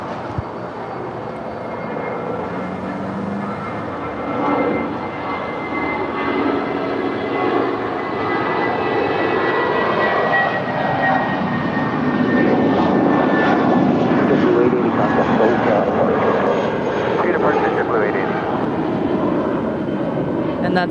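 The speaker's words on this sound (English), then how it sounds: "that's JetBlue 880 contacting departure. LAX to Las Vegas on an A320" JetBlue Airbus A320 airliner departing LAX for Las Vegas, a loud sustained jet engine roar that swells and holds, heard from nearby outdoors.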